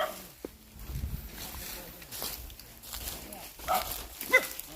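A dog barks deep in a Thai forest, a few close, sharp barks scattered among people talking, with rustling and outdoor ambience around.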